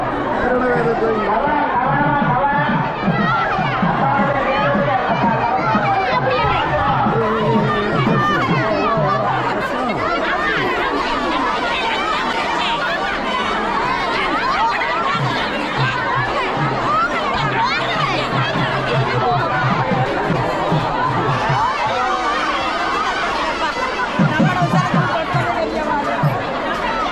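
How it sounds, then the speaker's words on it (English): A large crowd pulls a temple chariot in Sri Lanka, and dense overlapping chatter and shouting from many voices fills the whole stretch in a loud, constant hubbub with occasional laughter. "Trying to pull the chariot right now. It's a lot of crowd."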